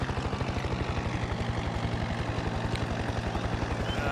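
A helicopter in the video game Farming Simulator 22 drones steadily during a hard landing, with a fast, regular rotor thump and a broad engine whine, loud and close throughout, no voices.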